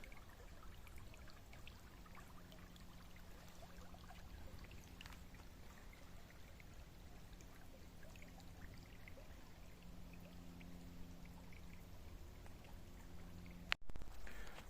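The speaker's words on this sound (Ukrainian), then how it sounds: "Зупинився полюбуватися струмочком. Послухати, як журчить водичка." A small forest stream babbles and trickles close by, a steady, even gurgle of running water that continues without a break and with no voices.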